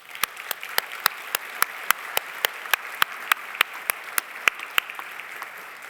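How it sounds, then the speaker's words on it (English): Applause at a university convocation ceremony, heard as a soft wash of audience clapping with a string of sharp, regular claps standing out near the microphone, moderately quiet and without speech. "Let's give a round of applause."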